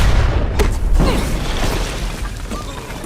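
A grenade explosion in a MARVEL Strike Force cinematic makes a loud, deep boom that rumbles and slowly fades over a few seconds.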